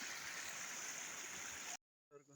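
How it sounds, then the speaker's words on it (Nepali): A jungle stream runs beside a bridge, a steady close rushing wash that cuts off abruptly, followed by a short stretch of someone speaking. "यहाँ चाहिँ 10 मिटरको नजिकमा खोला छ"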